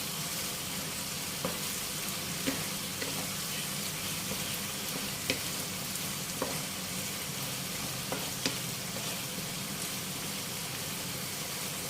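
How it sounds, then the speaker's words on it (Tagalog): Beef kaldereta fries in a pan while being stirred, a dense steady sizzle with occasional sharp clinks and scrapes of the utensil against the pan. "haluin natin ulit para hindi masunog"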